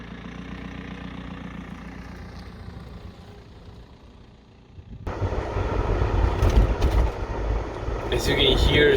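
A BMW E46 wagon, a tuned, high-mileage car with 600,000 km, heard from inside as it pulls away: a low, quiet engine idle gives way to a louder, rumbling drive with road noise building.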